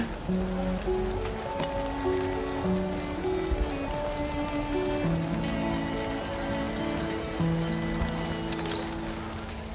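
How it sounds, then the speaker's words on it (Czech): Rain falls in the city-building game Anno 1800, a steady, even patter that continues throughout beneath the game's background music. "Krásně nám leje."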